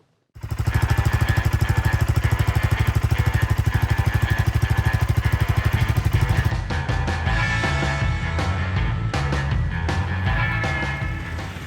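A BSA Gold Star single-cylinder motorcycle engine runs loud and close, with a rapid even thumping beat for about six seconds before the note shifts to a rougher, uneven running sound.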